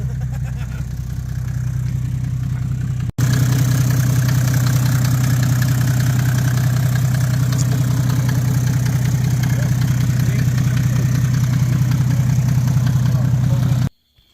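A car engine that has been reworked and prepped for boost, stage 3, idles loudly and steadily up close, a constant low drone that holds for over ten seconds before cutting off abruptly.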